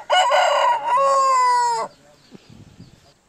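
A farm rooster crows loud and close, one long drawn-out cock-a-doodle-doo, followed by faint clucking and shuffling afterward.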